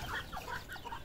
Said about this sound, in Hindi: डक और मुर्गे की हो चुकी है लड़ाई, ये देखें कैसे लड़ रहे हैं ये